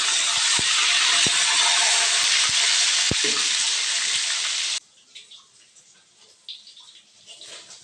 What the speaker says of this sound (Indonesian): selanjutnya aku goreng ayamnya dulu ya teman-teman